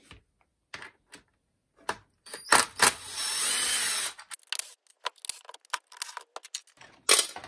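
A hex key loosening four bolts on a TOUA GSN50 unit, heard as sharp metallic clicks and ticks with a brief sustained grinding rasp in the middle, close and fairly loud, no talking.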